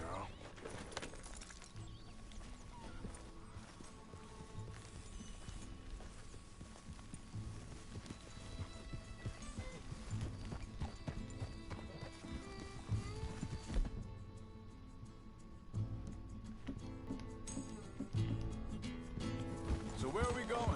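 A white horse in the Red Dead Redemption 2 video game trots with steady hoof clip-clops, faint and continuous under game music and characters talking, with a brief snort or whinny.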